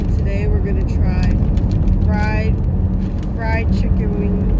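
A car driving along the road fills the cabin with loud, steady low road noise and engine rumble, and a voice talks over it throughout.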